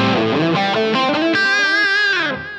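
Distorted electric guitar through a Line 6 Helix, playing a chord sequence with shimmering, effected tones and a dramatically different tone in each stereo side, steady and loud throughout before easing slightly at the end.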